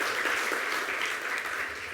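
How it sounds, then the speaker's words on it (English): A conference audience at a business summit in the New York Stock Exchange bursts into dense, sustained applause, a steady wash of many hands clapping with no voices over it. "let's give St. Francis a big round of applause"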